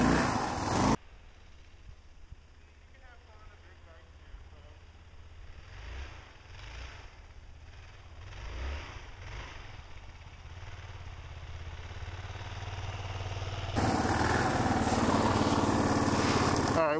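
Kawasaki KLR motorcycle engine revving in snow, a mid-pitched engine building steadily from a rough idle to louder sustained revving, with a burst of wind noise at start and end.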